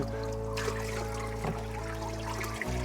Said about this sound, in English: I'm just going to throw him with the water